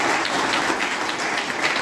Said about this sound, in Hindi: एक बार फिर तालियां बजाइए।